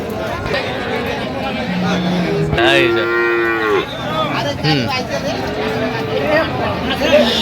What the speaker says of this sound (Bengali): এই যে আমরা দেখছিলাম এখানে গাভী বাছুর